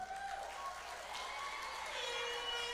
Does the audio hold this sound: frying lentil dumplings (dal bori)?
no